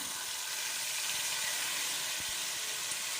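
Ground sesame paste dropped into hot oil with dried red chillies, hissing in a steady, dense sizzle that holds even throughout, close and fairly quiet.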